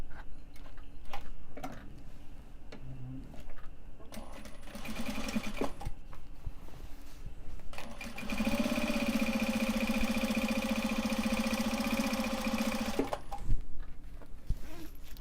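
Sewing machine top stitching Japanese fabric pencil pouches in white thread, a steady close mechanical whir with a loud sustained run in the middle, bracketed by shorter bursts and ticking handling sounds.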